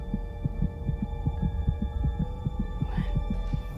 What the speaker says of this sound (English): Your heart's beating pretty fast.